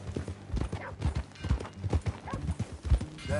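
Horse hooves clip-clop steadily in the Red Dead Redemption 2 western game, a close, rhythmic trot with brief snorts, under music and ambience and without talk.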